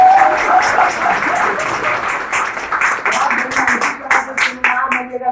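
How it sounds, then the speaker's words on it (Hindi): Business seminar audience clapping, a fairly loud spread of claps that thins out toward the end into a few scattered hand claps. "एक बार चेक करते हैं कि तालियां बजाते हैं कि नहीं बजाते हैं।"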